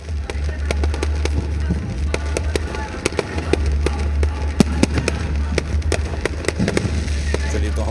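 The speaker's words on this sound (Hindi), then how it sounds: "तस्वीरों में आप देख सकते हैं किस तरह से शानदार आतिशबाजी की जा रही है" Fireworks burst at a Ravan Dahan celebration in Ranchi, with a dense run of sharp crackling pops and bangs over a loud, rumbling crowd bed.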